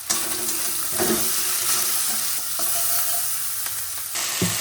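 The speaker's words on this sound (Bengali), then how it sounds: "ফোড়নে দিয়ে দেবো তেজপাতা শুকনো লঙ্কা পেঁয়াজ কুচি রসুন বাটা আদা বাটা হলুদ গুঁড়ো লঙ্কা গুঁড়ো" Bay leaf, dried chili, chopped onion, garlic paste and ginger paste tempering in hot oil, a loud continuous sizzle with occasional scraping stirs and brief clatter of the pan.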